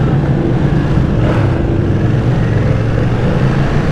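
A Ducati Streetfighter V2 motorcycle pulling away, its engine a loud, steady low drone that holds without pause.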